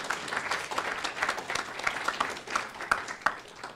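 An audience claps at a lecture, a moderate scattering of hands with individual claps standing out, fairly close and without speech.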